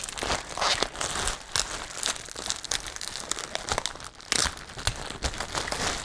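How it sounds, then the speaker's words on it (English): Sticky packing tape crackles and crinkles as it is pulled and wrapped tightly around a folded plastic package of latex foam, with continuous tearing and crumpling bursts close up. "Take my tape, wrap it around."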